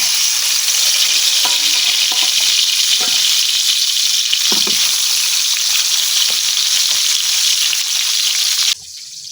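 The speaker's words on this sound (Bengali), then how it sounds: "এখন বাকি আর 2-3টা মাছ আছে, এই মাছগুলো আমি ভাজে নিলাম।" Khoila fish fry in hot oil in a village kitchen, a loud, continuous sizzle with occasional crackles and small pops throughout, with no talk over it.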